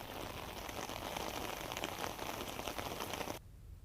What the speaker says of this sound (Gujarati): બહુચરાજી તાલુકાના ગ્રામીણ વિસ્તારમાં વરસાદ વરસ્યો